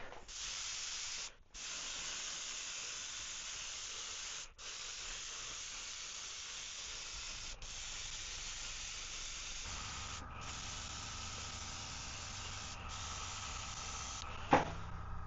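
Airbrush spraying paint onto a 3D-printed swimbait lure with a silicone tail, a steady close hiss in long bursts broken by brief pauses, with a faint knock near the end.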